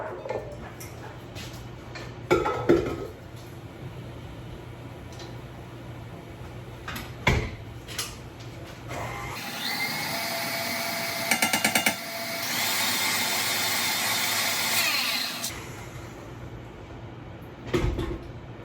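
Stand mixer beating cake-style batter with eggs: a steady whirring motor hum for several seconds, preceded by bumps and clunks of a bowl being set in place, with knocks after it stops.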